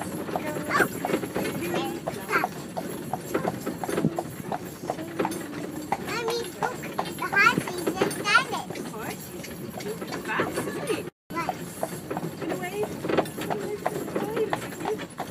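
Horse hooves clip-clop steadily on pavement in Killarney, a close, even rhythm of hoofbeats running throughout, with people chatting over them.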